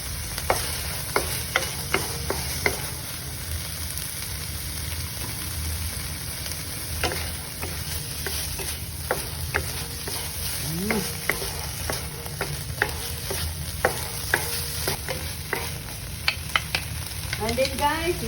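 Tuna fried rice sizzling steadily in a hot pan while a utensil stirs and scrapes it, with frequent sharp clinks and scrapes over the continuous close frying hiss, and no talking.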